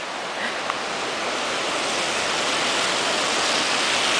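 Floodwater rushes loudly and continuously through a flooded area in Belle Meade, Nashville, a steady broadband roar with no talking over it.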